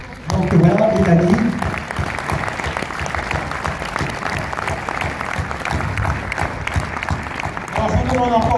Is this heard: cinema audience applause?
yes